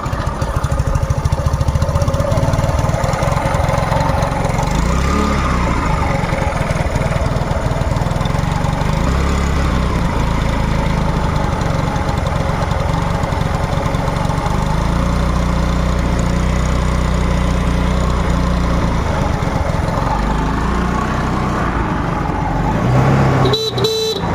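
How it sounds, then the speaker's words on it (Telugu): A 2016 Hero Duet scooter in good condition starts up and settles into a steady, loud idle, its engine droning evenly at close range for over twenty seconds before a short burst at the end. "ఇంజన్ స్టార్టింగ్ చూసి చూడండి ఫ్రెండ్స్"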